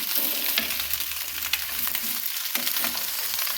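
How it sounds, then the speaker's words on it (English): Jalapeños roasting and sizzling in a pan, stirred steadily, with a continuous close frying hiss and occasional scraping clicks throughout. "Keep stirring your pan. You don't want them to burn, but you do want to roast them."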